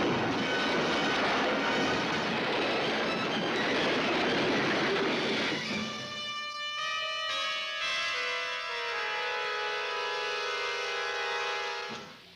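Train running in a Spaghetti Western trailer: a loud, roaring rumble of rolling wagons gives way to long, sustained whistle-like tones that hold for several seconds before cutting off.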